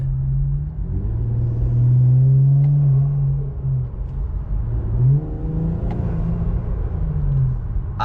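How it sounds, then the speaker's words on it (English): A 2018 Infiniti Q50 with muffler delete and AEM intakes revs from inside the cabin, its low engine drone rising and falling over several throttle blips with a faint turbo spool whir. "I'll try to get the turbos to spool a little bit"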